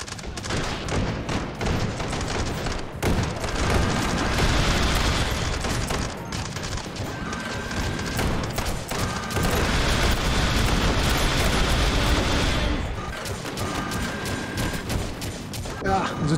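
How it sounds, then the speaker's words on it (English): Rockets are fired and burst repeatedly in the VR shooter Hot Dogs, Horseshoes & Hand Grenades, dense booming blasts and gunfire rolling continuously and loudly throughout. "Ooh, somebody's shooting off rockets in there."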